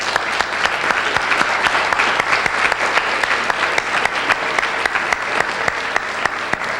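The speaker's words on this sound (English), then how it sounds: "please join with me in giving the staff and the board a wonderful round of applause" Steady, dense applause from a school audience honoring staff and the board, loud and even throughout without a break.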